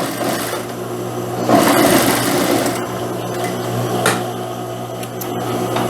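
Sewing machine running a second seam on pants, a loud, continuous fast mechanical chatter that swells briefly near the start and holds at an even pace, with no talking.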